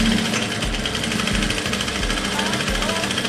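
A sewing machine runs steadily and close up, stitching a blouse side seam with a one-inch allowance, its motor whirring in a continuous rapid rhythm with brief dips in speed while a voice talks over it.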